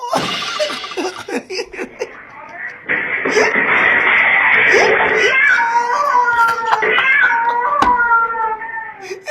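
A voice imitates a cat, drawing out a long, wailing meow among quick bursts of chatter and other vocal sounds, loud and close.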